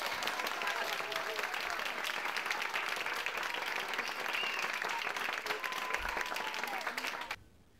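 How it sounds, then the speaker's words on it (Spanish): Steady applause from children and people in a children's rehabilitation department greeting the Pope, with indistinct voices mixed in, fading out near the end. "quienes lo recibieron entre aplausos"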